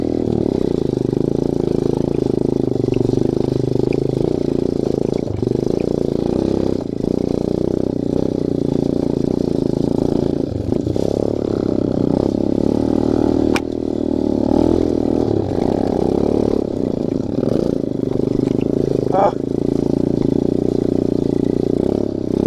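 A motorcycle riding a dirt trail in Barangay Pag-asa, Alabel, Sarangani Province, its engine droning loud and close throughout, rising and falling with the throttle, with clattering and scraping from the rough ground.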